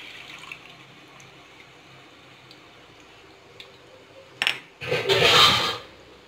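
Chicken stock is poured into a pan of chicken meatball curry, a splashing liquid rush swelling loudly near the end after a quieter stretch of kitchen noise.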